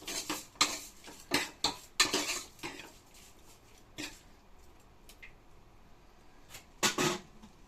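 A metal spoon scrapes and clinks against a pot as curry leaves, coriander and mint are stirred into a goat leg curry, giving a quick run of close, sharp taps that fade to occasional clinks, with no voices.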